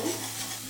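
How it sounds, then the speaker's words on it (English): A whisk stirs milk slowly into a flour roux for mac and cheese, a soft continuous swishing and scraping in a pan with a faint sizzle, brief and close with no speech. "Whisking really slowly."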